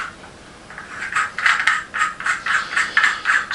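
A thermal monocular attachment is screwed on by hand, giving a close series of rhythmic ratcheting clicks and rattles that start after a short pause and repeat steadily.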